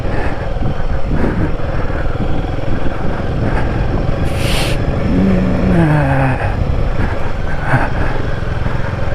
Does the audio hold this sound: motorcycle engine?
yes